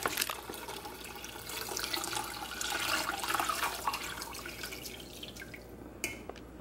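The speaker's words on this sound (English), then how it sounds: "And then I'm just going to strain it into this jar." Homemade coconut milk is poured through a strainer into a jar, a soft continuous trickle and splash of liquid with faint drips, close and fairly quiet throughout.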